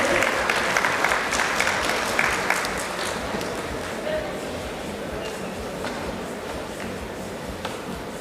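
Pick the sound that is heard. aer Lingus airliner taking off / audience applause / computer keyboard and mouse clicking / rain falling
audience applause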